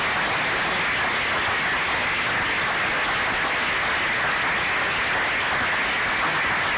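Steady, dense applause from an audience at an evening lecture event, continuous clapping like rain, loud and unbroken throughout with no voices over it.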